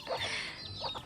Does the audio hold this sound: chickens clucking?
yes